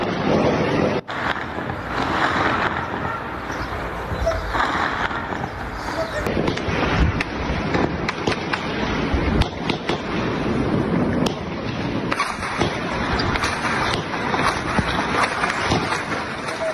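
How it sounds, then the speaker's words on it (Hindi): Rapid, crackling bursts of gunfire echo across a city, repeating irregularly, while a person talks over them throughout. "देखिए गोलियों की तड़तड़ाहट से पूरा शहर गूंज उठा"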